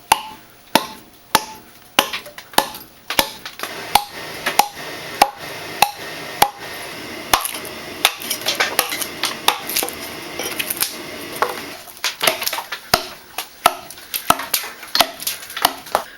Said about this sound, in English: I'm going to be using a variety of axes to chop this out